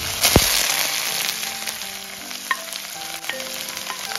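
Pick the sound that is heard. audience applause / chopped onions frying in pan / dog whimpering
chopped onions frying in pan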